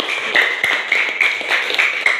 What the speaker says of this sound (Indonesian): tepuk tangan buat kelompok kita